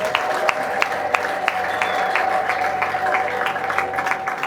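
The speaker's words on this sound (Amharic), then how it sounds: "በደንብ ለእግዚአብሔር ክብር አጨብጭቡለት።" A church congregation claps together during a prophetic service, with rapid, even hand claps continuing under a sustained tone and faint background voices.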